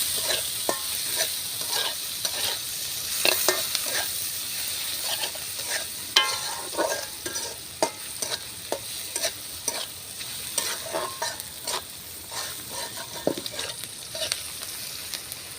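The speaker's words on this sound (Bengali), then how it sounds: "পেঁয়াজ কাঁচামরিচ ভাজা হয়ে গেছে" Onion and green chilli sizzle and fry in a pan while being stirred, with steady crackling hiss and repeated scraping strokes of a utensil, close and alone without talk.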